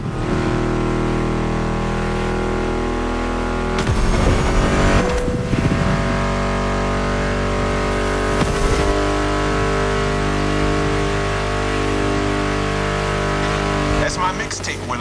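Ford Mustang muscle car engine in The Crew Motorfest, a loud sustained drone that surges and revs twice, layered under background music with a voice talking over it.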